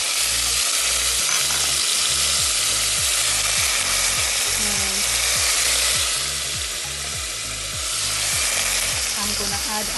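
Tomato dropped into a pan of frying beans and golden-brown onions, sizzling loudly and steadily up close, with a constant hiss and rhythmic scraping stirs throughout.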